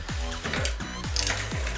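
A power screwdriver drives screws while someone works on a Honda CBR motorcycle, producing a rapid series of about four ratcheting, whirring bursts close to the listener.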